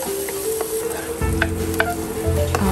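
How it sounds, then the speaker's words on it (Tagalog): Onions sautéing in olive oil in a pan, a steady close sizzle and crackle that swells louder about halfway through, with light stirring clicks and scrapes on top. "naglagay lang ako dyan ng olive oil and then naglagay ako ng onion. Tapos, ginisa ko lang yung onions."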